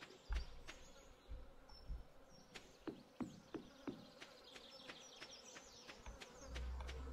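Flies buzzing in the farming video game Stardew Valley, with faint whirring buzzes that come and go among soft game sound effects and light clicks, at low volume with no talking.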